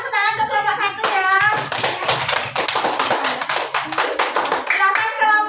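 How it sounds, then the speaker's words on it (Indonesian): A classroom of students applauds a student group in a lesson, with dense, steady hand clapping throughout and children's voices mixed in. "Tepuk tangan ke kelompok 1 ya."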